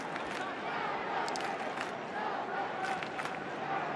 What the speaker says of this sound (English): Melbourne cheer squad finding some voice down there